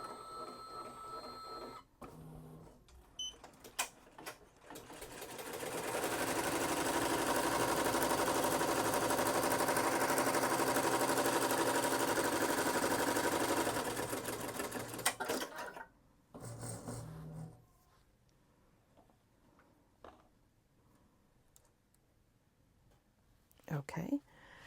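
A Poolin EOX embroidery machine stitches an applique placement line, a steady loud mechanical whir lasting about ten seconds, with clicks and quieter handling noises before and after.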